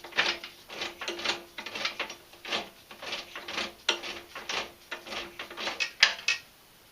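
Gears and drive shaft of an MTD power wheel clicking and whirring as the transmission is shifted through neutral, forward and reverse, a close, steady run of rhythmic mechanical ticks and ratchety pulses with no talking.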